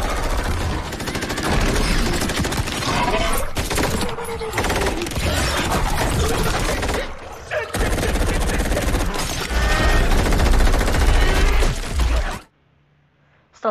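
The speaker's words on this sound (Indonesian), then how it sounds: "Maka dengan spontan, mereka langsung menembaki monster tersebut." Dense rapid gunfire from soldiers shooting at an alien monster in the 2021 action film The Tomorrow War, sustained loud bursts with crashing debris and shouting mixed in, cutting off abruptly near the end.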